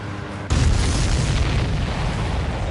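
Missiles blown apart in Ace Combat 7, a sudden loud explosion half a second in that swells into a broad, sustained rumbling roar, close and dominant.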